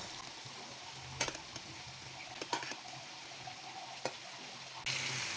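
Fried potatoes stirred into masala in a pan, a soft steady sizzle broken by several sharp spatula scrapes and clacks, with a louder burst of sizzle at the end.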